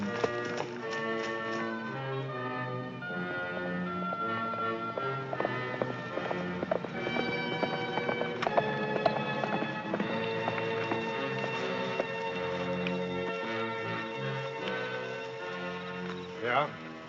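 Rapid hoofbeats of galloping horses run steadily beneath loud, busy orchestral music throughout.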